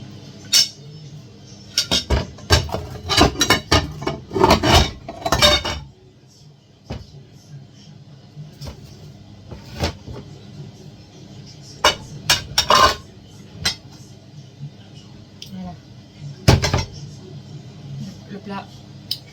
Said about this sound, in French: Je vais couper des fruits et je vais les rajouter